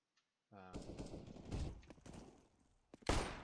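Quick bursts of FAMAS rifle fire during a Counter-Strike: Global Offensive esports match, sharp and fairly close, a short volley followed by a louder final burst, with a caster's voice talking over the action.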